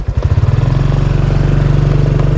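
A motorcycle engine chugs and idles steadily up close, its rhythmic low thumping running throughout as the bike is pushed along a muddy, rough trail after rain.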